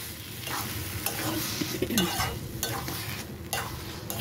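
Tarka dal is stirred and sautéed with masala in a pan, a gentle continuous sizzle with rhythmic spatula scrapes and stirring, heard close with no one talking.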